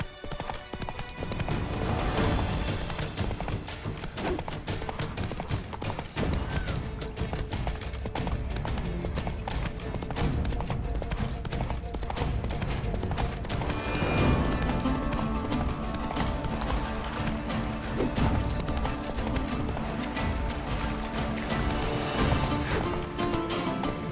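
In The Witcher 3, the horse Roach gallops in a continuous, loud clip-clop of hooves, steady and close for the whole stretch, with faint game sounds mixed in.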